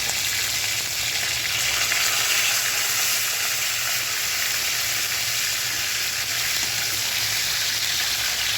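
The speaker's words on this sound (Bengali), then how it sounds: "তো দর্শক, মাছটা ভাজা হচ্ছে।" Rohu fish frying in oil in a pan, a loud, continuous close-up sizzle that holds steady throughout.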